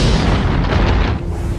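Venus and Earth colliding erupt in a huge explosion effect, a loud, dense roaring boom that fills the whole stretch with deep rumble and hiss and barely eases toward the end.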